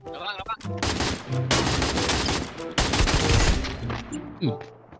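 Rapid automatic gunfire from the video game Free Fire in a ranked squad match, dense bursts filling most of the clip with brief gaps, loud and close, with a voice talking intermittently underneath.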